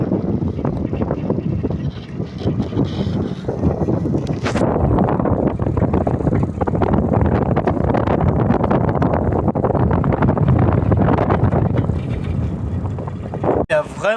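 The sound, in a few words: strong wind while sailing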